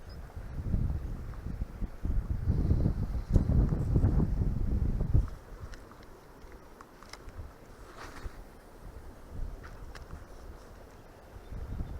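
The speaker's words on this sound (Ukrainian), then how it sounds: "Тут вітер уже сильний, там затишку виходить на тій стороні. Тут вже вітер дує нормально так." Strong wind buffets the microphone in heavy rumbling gusts by the water during spin fishing, loudest in the first few seconds, then easing to a lighter steady blow.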